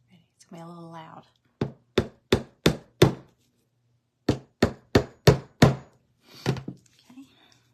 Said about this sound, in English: I'm gonna use these little tacks, these little nail head tacks, and I'm gonna just kind of tap them down to the corners